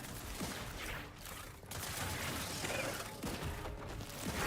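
Dense gunfire from a firefight in The Outer Worlds 2 rattles on steadily in bursts, loud and layered with mechanical clatter, with no pauses or speech.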